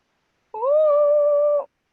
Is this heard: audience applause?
no